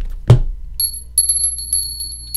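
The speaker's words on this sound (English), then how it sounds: "I'm going to ring the bell" A small hand bell is rung: a sharp strike opens, then bright high ringing tones that pulse in a quick series of dings and fade, close and clear with no talking.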